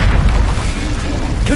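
A loud, continuous rumbling boom from a Confringo spell blast in a Harry Potter video game, filling the short stretch with dense low noise.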